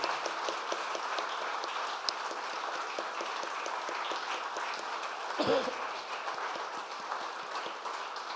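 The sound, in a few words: applause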